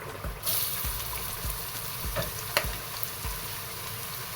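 Finely chopped onion and carrot hit hot oil in a pan and fry with a bright, steady sizzle, punctuated by several soft thuds and scrapes of stirring, close and without speech.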